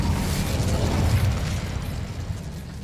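A fire spell is cast in the video game Hogwarts Legacy, giving a loud, dense roaring burst that holds steady and then eases slightly, with no voices.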